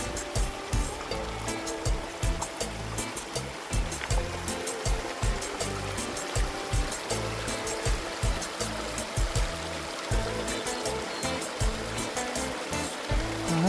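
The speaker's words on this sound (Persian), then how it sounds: "همین آبشار است که" A waterfall in a Canadian Rockies forest rushes loud and steady, a constant close roar of churning water with no voices.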